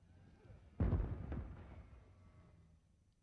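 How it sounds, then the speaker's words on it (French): A single deep cannon boom from a 21-gun salute for the Moroccan king's first official visit to Germany, 1965, rolls out close and heavy on a rainy airfield, followed by a long fading echo. "21 coups de canon saluent la première visite officielle d'un souverain marocain en Allemagne."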